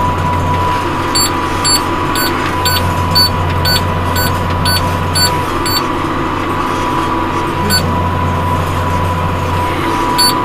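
A hay baler works through big alfalfa windrows with steady mechanical droning. Rhythmic clacking and clicking plunger strokes repeat throughout, loud and close, with no voices.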